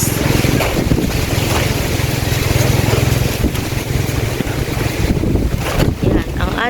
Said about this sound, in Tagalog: Diba, ang lakas ng hangin.